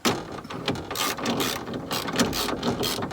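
A ratchet wrench clicks steadily as it tightens two bolts on the rear window regulator of a 2008 Chevrolet HHR, a dense, close run of pawl clicks lasting the whole stretch with no talking.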